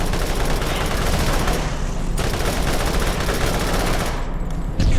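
Gatling turrets in the Borderlands video game fire a continuous, dense, rattling stream of rapid shots. The gunfire is loud and close and stays unbroken for the whole stretch, with a brief dip near the end.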